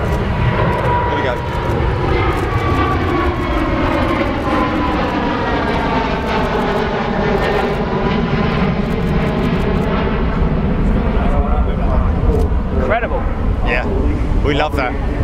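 An aircraft roars steadily overhead at the Farnborough Airshow, its loud engine note sweeping in pitch as it passes and dominating the scene, with people talking and reacting in the crowd beneath.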